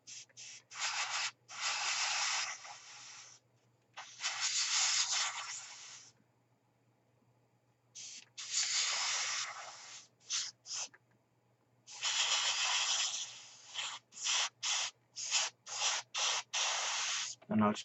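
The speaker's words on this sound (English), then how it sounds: "I'm just going to spray the bottom of the control column" Short bursts of aerosol spray hiss close by onto the control column of an RAF Harrier GR7 model, several long sprays separated by pauses, then a run of quick rapid spurts near the end.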